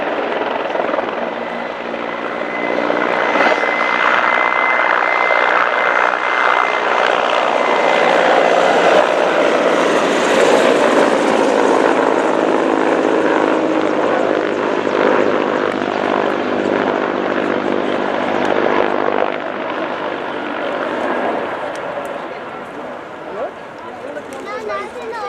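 Czech Air Force Mil Mi-24V and Mi-171Sh helicopters flying a display at an air show, a loud, sustained rotor and turbine roar that stays steady and close for most of the stretch before easing off slightly near the end.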